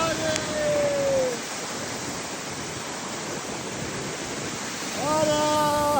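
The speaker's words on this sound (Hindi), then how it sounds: "तो ये देखो आप झरने का फ्लो इस टाइम" A powerful waterfall on the Shrikhand Mahadev trek roars as a dense, steady rush of water, loud and close, with voices briefly raised over it at the start and end.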